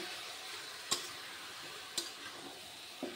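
Marinated chicken in a spiced pan masala for a chicken kosha, a faint low sizzle with three brief sharp scrapes of a stirring spoon, with no voices.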